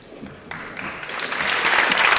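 Applause at a university graduation ceremony starts quietly and swells quickly into a full round of clapping from the audience.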